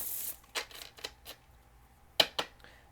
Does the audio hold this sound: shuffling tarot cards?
yes